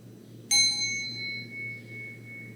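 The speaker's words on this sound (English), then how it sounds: "we'll use the sound of the bell to signal the transition from this inward focus to an outward focus" A meditation bell strikes once, marking the end of a mindfulness exercise in a quiet room, its clear ringing tone sustaining and slowly fading over a low steady hum.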